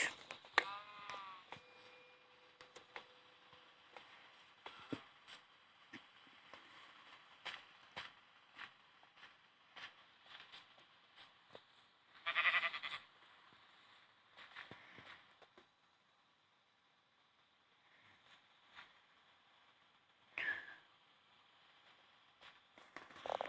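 Sheep in Minecraft, on a wool farm, bleat a few times in short separate calls over a quiet background with light footsteps and game sounds.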